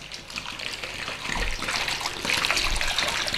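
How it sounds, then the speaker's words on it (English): Water gushes steadily into a bowl of raw cut potato chips for home-made British fish and chips, a close, continuous splashing pour that grows slightly louder as it goes on. "In with some water."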